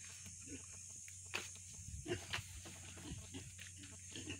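Pigs in a newly built piggery pen on a farm, faint grunts and snuffles with occasional shuffling steps over a steady background hum, with people talking.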